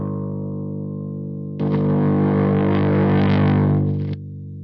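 Electric guitar played through a Biyang DS-12 distortion pedal, a clean sustained chord that jumps into a loud, thick distorted burst for a few seconds before cutting back to the quieter clean tone.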